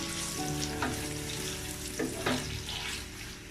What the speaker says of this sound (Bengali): পেঁয়াজটা সামান্য একটু লাল করে ভাজবো